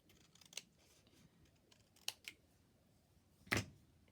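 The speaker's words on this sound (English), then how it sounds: "Scissors here." Scissors snip paper for a handmade Christmas gift journal, three or four short, crisp cuts spaced apart in a quiet room.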